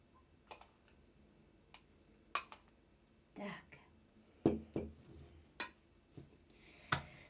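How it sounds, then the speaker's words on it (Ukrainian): Viburnum berries stirred with sugar give sparse, quiet clicks and soft scrapes of a spoon in a container, irregularly spaced and close by. "перемішую калину"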